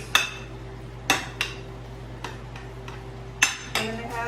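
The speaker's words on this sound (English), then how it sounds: "So let's mix everything together." Spoon clinking and scraping against a bowl while mayonnaise is mixed into the other ingredients, several sharp irregular clinks between quieter stirring sounds.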